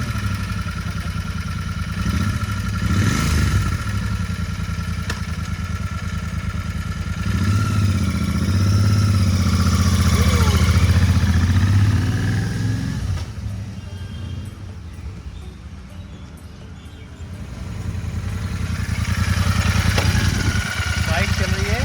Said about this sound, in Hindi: फर्स्ट टाइम चलाऊंगा 650 सीसी इंटरसेप्टर